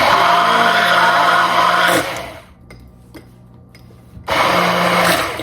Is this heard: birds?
no